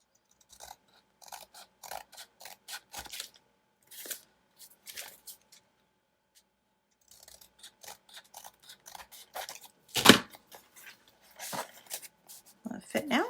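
Scissors trim paper for a side pocket in a handmade Holly Hobbie journal, giving scattered quiet snips and rustles with pauses between cuts and one sharper crunch near the end.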